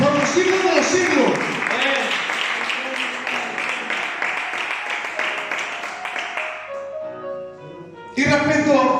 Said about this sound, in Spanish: Vamos a dar un aplauso a aquel que vive y reina por los siglos de los siglos.